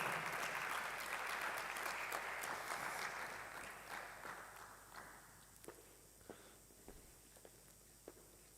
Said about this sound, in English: Thank you so much for joining us with a stand of applause with Mr.